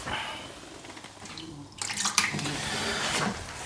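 Lager is poured and splashes steadily into a clean bucket on the floor, starting softer and growing louder and more turbulent partway through.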